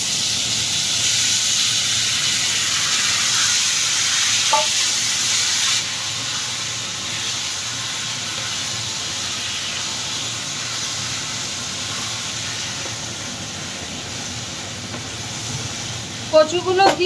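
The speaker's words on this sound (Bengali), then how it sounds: "কচুগুলো দিয়ে ভালো করে একটু নাড়াচাড়া করে নিতে হবে, যাতে মশলাগুলো কচুর ভিতরে ভালো করে ভরে যায়" Boiled taro and spiced taro leaves fry in a pan with hilsa fish head, giving a loud, steady steamy hiss throughout that softens partway, with a few clattering stirs at the end and someone talking over it.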